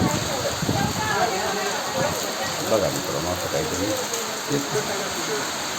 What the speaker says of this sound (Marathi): पावसानं हजेरी लावलेली आहे